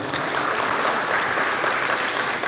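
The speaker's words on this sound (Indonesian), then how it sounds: "Untuk itu tepuk tangan buat kita semua" Sustained audience applause at a corporate customer gathering during Ramadan, a dense, steady wash of clapping hands from a large crowd, evenly loud throughout with no talking over it.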